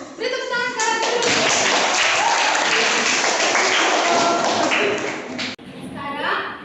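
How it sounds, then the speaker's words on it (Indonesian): A classroom of students applauds together, loud, close and continuous clapping filling the room for several seconds, with a short dip before voices and clapping resume at the end. "Beri tepuk tangan sekarang dulu"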